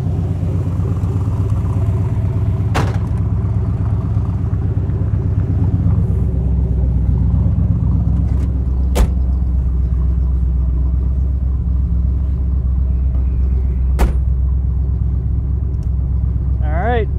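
A 1966 Chevrolet Corvette L79 with a 327/350 V8 and four-speed manual rumbles loud and close while driving, a deep steady engine drone with a few sharp clicks over it.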